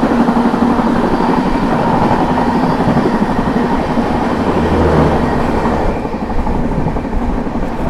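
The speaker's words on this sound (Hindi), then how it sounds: "चले यहाँ पर पहला ओवरटेक मार दिया अपनी प्रयागराज हमसफर ने" A loud, steady rumble of the Prayagraj–New Delhi Humsafar Express rolling close by as it overtakes another train, with constant wheel and carriage roar and a slight shift near the end.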